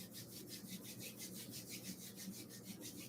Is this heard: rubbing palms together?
yes